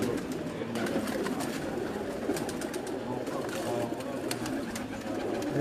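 Racing pigeons coo softly and repeatedly amid a busy background with faint talking and scattered clicks.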